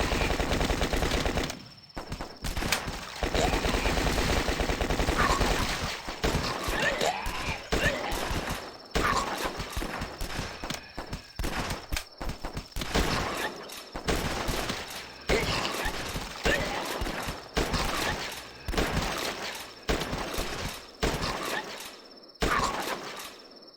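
Rapid gunfire from a sniper rifle and other guns in the flash zombie-defense game The Last Stand, a dense, loud barrage of repeated shots and bursts running almost without pause, with brief gaps and a faint voice underneath.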